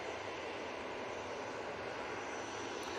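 Airbus A320ceo jet at Manchester Airport, heard as a steady, broad engine roar that stays even and fairly distant throughout, with no voices over it.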